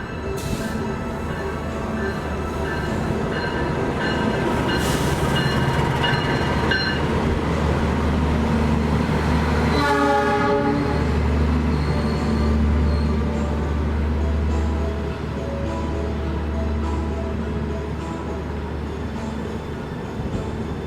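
The Taksaka passenger train rumbles steadily past up close in Indonesia, with a long tonal horn blast early on and wheels clacking over the rails.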